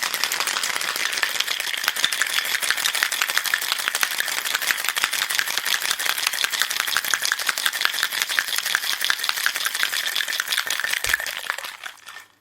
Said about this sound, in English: Chuck some ice in there. Pop the cap back on the shaker. And here we go.